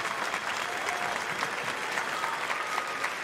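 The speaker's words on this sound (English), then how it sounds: "how about another round of applause for our Oral District Elementary School Orchestra?" Audience applauding an elementary school orchestra at a district orchestra concert in a high school, a steady, dense wash of clapping from a full hall that holds evenly throughout with no talk over it.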